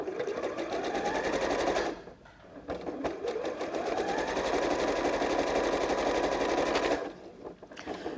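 A sewing machine runs at a steady, fast, close-up chatter, stitching scraps of quilt wadding together, with a brief pause partway through before it starts up again.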